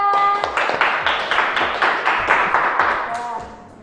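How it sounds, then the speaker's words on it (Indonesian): Classroom applause for a student group after a lesson on stem and leaf cuttings: a run of roughly rhythmic claps, fairly loud and close, lasting nearly four seconds, with voices and children's chatter mixed in and fading at the end. "Tepuk tangan untuk kelompok 3"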